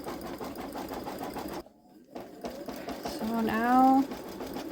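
A Babylock Solaris embroidery machine stitches out letters on a T-shirt, its steady rapid needle rhythm running close and loud almost throughout, stopping briefly mid-clip, with a person speaking over it near the end.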